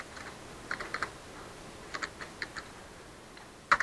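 Light, quick keystrokes tapped on a computer keyboard while entering a web address, a few scattered clicks in short bursts over a faint steady background hum, ending with a couple of slightly louder taps.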